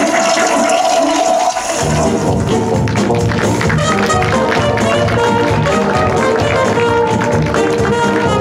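A household toilet flushes with a loud, close rush of water that surges after a brief pause and churns steadily for several seconds without talk over it.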